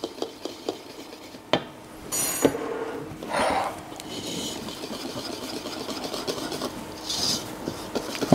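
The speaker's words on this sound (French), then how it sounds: "Et je vais venir mélanger donc avec un fouet de façon à obtenir une masse bien homogène." A chocolate tart mixture of cocoa and syrup is worked with a whisk, giving soft scraping and rubbing strokes against the bowl with a few sharper clinks, moderately close and alone.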